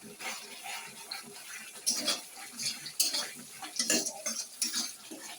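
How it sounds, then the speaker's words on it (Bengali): Spices with turmeric and salt stirred and fried in a pan for an egg dish, heard as a fairly quiet run of irregular metal scrapes and clinks of a spoon against the pan. "এখন ভালো করে মশলাটা ভাজবো, একটু কষিয়ে নেব।"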